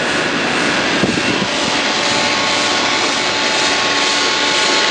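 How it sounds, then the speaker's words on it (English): Two pool heater compressors run together at a residential pool, making a loud, steady, close roar and hum with no break. "Both compressors running."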